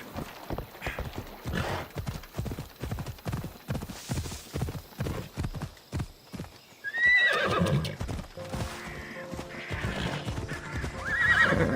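Horses galloping in Assassin's Creed Odyssey: a steady run of close hoofbeats, then a loud neigh and more whinnying as the galloping continues.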